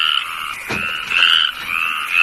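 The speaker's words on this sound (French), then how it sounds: "J'entends rien avec ces saloperies de grenouilles." Frogs croak in a loud, steady chorus with a brief extra burst near the middle, close and continuous with no voices over it.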